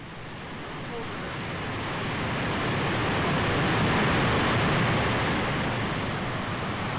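Powerful rushing water at Athabasca Falls, a 23-metre waterfall in Jasper, Canada, roars as a steady, dense broadband wash that swells slightly louder through the middle and holds close and continuous without pause.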